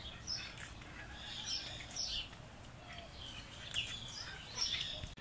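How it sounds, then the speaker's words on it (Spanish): Small parakeet calls in an aviary, repeated high chirps and tweets scattered over about five seconds against steady background noise, moderately distant. "Miren, ahí está un cotorrito."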